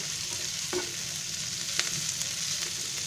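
Tomatoes frying in a pan over lowered gas heat, a steady soft sizzle throughout with a couple of brief scraping stirs, close and alone without any talk.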